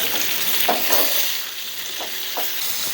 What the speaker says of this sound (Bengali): ওই তেলে আলুগুলো ভেজে নিব